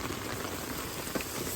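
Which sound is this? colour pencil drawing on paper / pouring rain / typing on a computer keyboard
pouring rain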